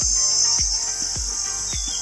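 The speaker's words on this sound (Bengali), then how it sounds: "প্রায়শই এই যে ঝিঝি পোকার ডাক" Crickets shrill in a steady, unbroken high drone outdoors by a village Kali temple, with soft low thumps recurring about every half second underneath; no one speaks.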